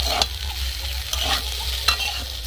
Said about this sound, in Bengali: 3 মিনিট মতো আমি এইভাবে নাড়াচাড়া করে নিয়েছি।